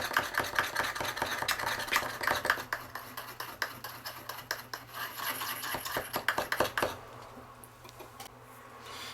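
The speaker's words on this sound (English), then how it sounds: "I would think this paint's been sitting around for quite some time, so make sure you give it a really good stir" An old pot of model paint being stirred, a run of quick close scraping taps and clicks of the stirrer against the pot that stops, leaving a quiet room.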